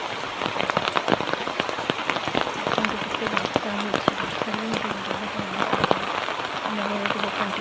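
Rain falls steadily and densely on a surface, with scattered sharper drop hits throughout, and a faint low voice murmurs under it.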